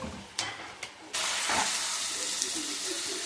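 Noodles and sauce are stir-fried in a wok. A few brief scrapes and clatters come first, then a loud, steady hiss and sizzle that holds to the end.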